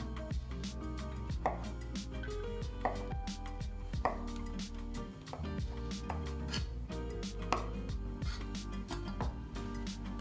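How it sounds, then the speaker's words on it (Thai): A knife chops tempeh steadily on a cutting board, a quick run of sharp, close taps in an even rhythm with faint background music. "หั่นเทมเป้ตามขนาดที่เราต้องการ250กรัม"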